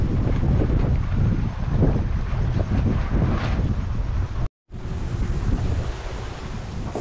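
Strong wind roars steadily across an aluminium catamaran under sail with the screecher and head sail out, a loud, continuous buffeting with a brief dropout midway.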